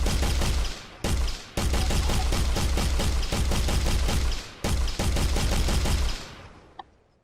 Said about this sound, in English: right now the gun should be working for our first person projectile out of both of the guns